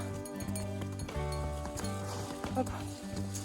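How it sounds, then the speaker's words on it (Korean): Donkeys on a Himalayan mountain trail clip-clop along in a steady, close hoof rhythm, heard beneath a constant tonal layer. "쉬려고 하니 뒤에서는 다른 당나귀가 오네요"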